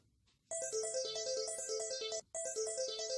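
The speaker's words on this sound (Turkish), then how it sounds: "Canan, Canan, telefonun çalıyor." A mobile phone ringtone plays loudly and close by as a bright, repeating melodic ring, starting after a short silence and breaking briefly before sounding again.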